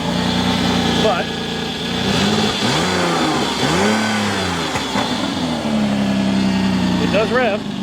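A 2001 Ford Escape engine with a massive exhaust leak revs up and down several times in quick swells over a rough idle, loud and close, while a person talks.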